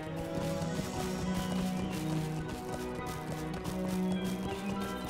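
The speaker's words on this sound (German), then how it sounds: "Die Pferde sind da hinten." Horses in the online game Lord of the Rings Online, with steady galloping hooves and clip-clop thudding continuously through the clip over a dense bed of game music and ambience.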